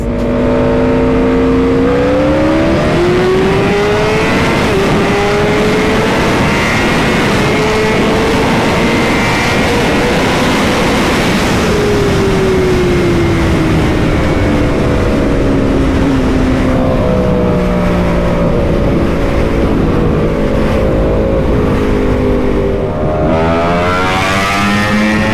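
A Ducati Panigale V4 sport motorcycle runs loud and close for a long stretch, its engine pitch sliding up and down through repeated revs and gear changes, with no talking.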